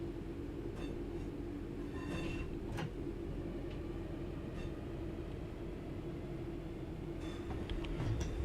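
Simulated train running on the Glossop Line in Train Sim World near a junction, a steady low rumble and drone of the moving train with occasional faint clicks and squeaks, continuous and close, with no speech.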